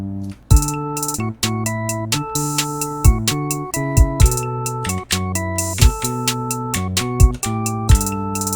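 Synthesized bass notes in a steady repeating rhythm, each with a sharp percussive attack, playing a short walking line alone in Soundtrap music software.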